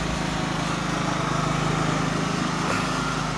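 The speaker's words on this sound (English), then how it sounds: "There goes Tyler on his lawnmower" A well-used ride-on lawn mower runs steadily, a constant loud droning engine hum close by with no change in pace, no talk.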